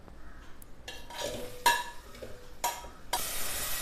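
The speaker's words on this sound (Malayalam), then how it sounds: "വെളിച്ചെണ്ണ ഒന്ന് ചൂടായി വരുമ്പോൾ അതിലേക്ക് നമുക്ക് അരിഞ്ഞു വെച്ചിരിക്കുന്ന തക്കാളി ഇട്ട് കൊടുക്കാം." Chopped tomatoes dropped into hot coconut oil in a pan, bursts of sizzling and spatula scraping that start and stop, growing into a steady hiss at the end.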